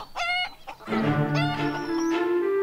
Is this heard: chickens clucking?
yes